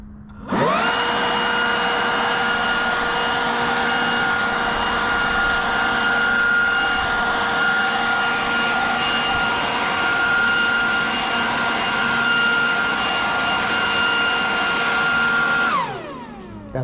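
A Toro 900 CFM handheld leaf blower on its regular setting gives a loud, steady, whining roar that holds evenly for about fifteen seconds, then spins down, with no talking over it.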